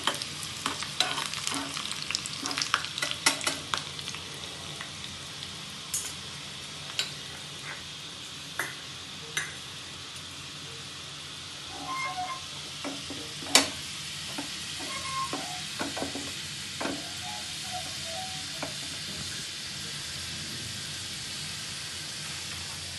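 Garlic stir-fries over low heat for a chutney, giving a soft, steady sizzle with scattered scraping stir strokes and light clinks of a spoon against the pan, busier at first and quieter later, with no talking.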